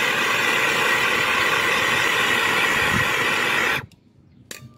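MAP gas torch roaring steadily at close range while heating heat-shrink tubing on trailer wiring, a loud continuous broadband hiss that cuts off abruptly near the end, leaving near silence with a brief faint click.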